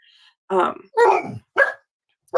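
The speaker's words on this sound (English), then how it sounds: "the dogs all want to go after the foxes now that they're like, pushing the buttons of my dogs" Dogs barking at foxes: three loud, close bursts of barking in quick succession, with short gaps of near silence between them.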